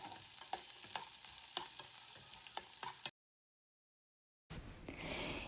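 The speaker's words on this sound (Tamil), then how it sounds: "சின்ன வெங்காயம் 10லேருந்து 15 நல்லா பொடியாக நறுக்கி சேர்த்து எல்லாத்தையும் நல்லா வதக்கிக்கணும்." Chopped shallots, green chili and curry leaves sauté in a pan for Chettinad masala paniyaram, a soft steady sizzle with light stirring scrapes, quiet and close, broken by a brief silent gap.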